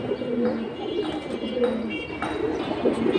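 Pigeons bred for direct flight, kept in a bird market or loft setting, give soft low cooing that runs steadily through the moment, with faint background murmur and occasional chirps around them.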